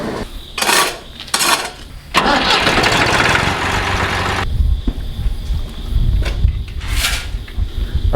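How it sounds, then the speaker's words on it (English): A grain dryer fires up with its doors open, giving a loud roaring burst that holds steady for a couple of seconds. Rhythmic mechanical pulses and clanks come before and after it. "Firing the dryer up right now with the doors open"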